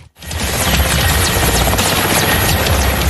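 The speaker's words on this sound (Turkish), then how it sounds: "Özel kuvvetler helikopterlerle araziye indirildi" A military helicopter sets special forces troops down on rough terrain during a joint exercise, its loud, close rotor and engine roar starting almost at once and holding steady with a rapid, chopping beat, no voices over it.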